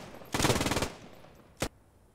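An MG-42 machine gun in the WWII game Post Scriptum rips off a fast half-second burst of tightly packed shots, followed by a single short crack a moment later, close and loud against quiet.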